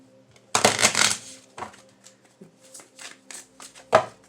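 Tarot cards are shuffled by hand in short, crisp bursts of riffling and slapping, loud and close, with quieter taps and rustles between them and no talking.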